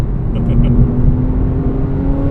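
2006 Porsche 997 Carrera S flat-six engine running at steady high revs with a constant droning tone, close and loud, with no voices.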